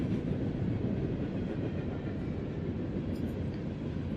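A train rolls past on nearby tracks in a quiet setting, a steady low rumble with rhythmic wheel clatter and faint high squeaks, continuous and fairly close throughout, no voices.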